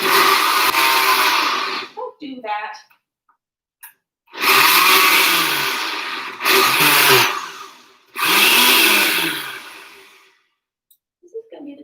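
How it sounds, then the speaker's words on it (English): A kitchen blender whirs in three long loud bursts, pausing between runs as the motor spins down, blending leftover fruit pulp; a voice speaks briefly in one gap. "Let me use my blender from far away."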